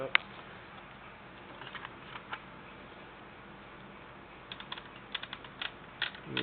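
A typewriter set to stencil mode types across a check, giving faint, irregular keystroke clicks that come in sparse bursts, denser near the end.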